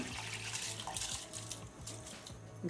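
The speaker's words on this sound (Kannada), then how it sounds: "ಅರ್ಧ ಕಪ್ನಷ್ಟು ನೀರಿದೆ ಅಕ್ಕಿ ನೆಂದಿರೋ ನೀರನ್ನೇ ಹಾಕಿರೋದು" Soaking water from rice poured into a mixer jar, a soft continuous splashing trickle close by, fairly faint and without speech.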